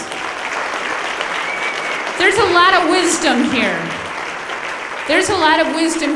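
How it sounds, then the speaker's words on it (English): Loud audience applause fills the hall at a salute honoring women truck drivers, a steady wash of clapping that swells midway and again near the end while a voice speaks over it. "A round of applause for these ladies."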